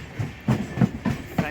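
A Konkan Railway passenger train runs on its tracks with rhythmic clickety-clack wheel beats over rail joints, heard from inside the moving carriage in a steady pattern of thumps.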